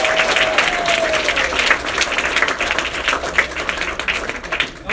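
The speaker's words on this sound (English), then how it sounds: "Let's give a round of applause to Susan Berlin" Supporters at a congressional office opening applaud loudly, a close, dense burst of many hands clapping throughout with occasional crowd noise, fading slightly at the end.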